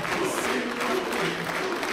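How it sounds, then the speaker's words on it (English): A crowd cheers at a League of Legends esports match, Fnatic versus Unicorns of Love in the LCS EU Summer 2015, a steady, dense roar that holds loud throughout. "People cheering for Huni so far."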